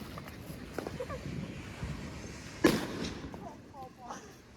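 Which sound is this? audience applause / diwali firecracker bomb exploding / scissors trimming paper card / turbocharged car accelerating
diwali firecracker bomb exploding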